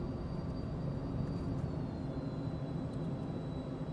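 An aircraft engine spools up in Microsoft Flight Simulator, a low steady droning rumble that holds constant and stays fairly quiet across the whole stretch.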